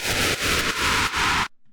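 An impact sample pushed through a Decapitator saturator at 100% with heavy drive, turning it into a dense, loud wall of harsh distorted noise that pulses in a few surges before cutting off abruptly.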